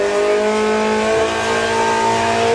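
A VW drag race car at Santa Pod launches off the start line with a loud, rising engine roar that climbs steadily in pitch as it pulls away, and no voices are heard.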